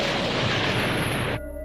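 Planet exploding: a sustained, loud, roaring blast of dense noise that cuts off abruptly, leaving a faint hum.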